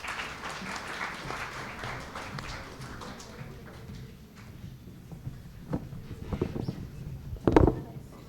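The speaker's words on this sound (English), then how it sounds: "Let's give them a huge round of applause." Audience applause for a team of teen entrepreneurs at a youth business challenge event, a steady crowd clapping that fades somewhat before a few louder bumps and a knock near the end.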